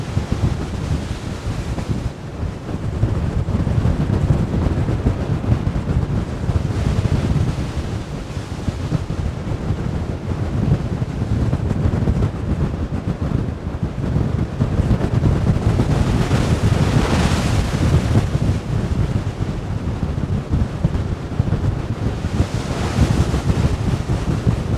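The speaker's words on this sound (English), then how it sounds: "These are pretty serious waves out here." Heavy open-sea swell around the MSC Meraviglia cruise ship, with waves estimated at five meters or more, roars as a continuous loud wash with periodic surges, thick wind buffeting on the microphone throughout.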